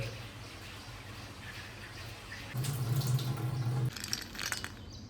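Soaked mung beans, peanuts and chickpeas rinsed under running tap water in a sink, a steady splashing flow that grows louder and heavier midway, then eases off.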